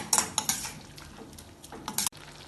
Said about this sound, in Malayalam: ഇത് വീണ്ടും ഒന്ന് ഇളക്കി കൊടുക്കാം.